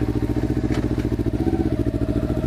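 A motorcycle idles and pulls away at close range, its engine pulsing in a rapid, loud, even thump with a light mechanical clatter and no talking.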